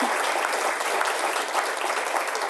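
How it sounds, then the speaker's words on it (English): Steady applause from an audience at a community event launching the Trenton Kids Count 2023 data booklet, dense clapping held at an even level throughout with no voices standing out. "You can give that a round of applause."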